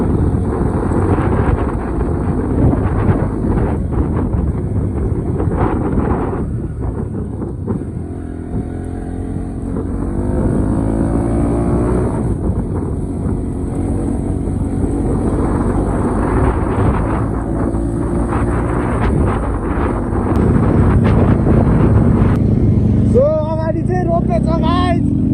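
Strong wind roars steadily across the microphone during a ride on a moving vehicle, loud and continuous with engine rumble beneath, while people talk over it.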